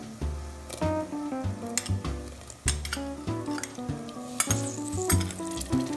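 Chopped tomatoes cook in hot oil in a pan for Maharashtrian misal pav, with loud, rhythmic metal clanks and scrapes as a spoon stirs. A low sizzle sits beneath the clatter, and nobody speaks.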